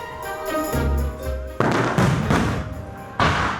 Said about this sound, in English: Okay, so fireworks.